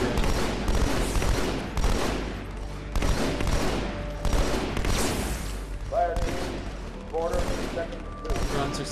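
Rapid gunfire from Halo 2 Anniversary, dense repeated bursts and booms running loudly throughout, mixed with game effects and a voice talking over it.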